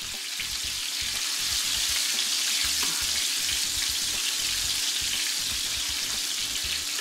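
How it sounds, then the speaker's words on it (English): Garlic frying in oil to flavor it, a dense steady sizzle and crackle close up, continuous and fairly loud with faint stirring underneath, no voices. "all I'm merely doing here, guys, is flavoring my oil. Giving it that garlic flavor."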